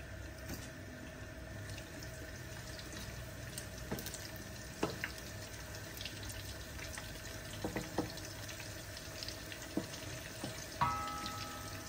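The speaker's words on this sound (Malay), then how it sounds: "Goreng tempe kita dahulu." Tempeh frying in oil for sambal goreng, a steady low sizzle and hiss with scattered sharp pops and crackles, heard alone.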